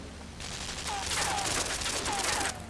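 Gunfire aimed at the player in the video game Limbo arrives as a cluster of sharp, crackling shots over about two seconds against a steady low background hum.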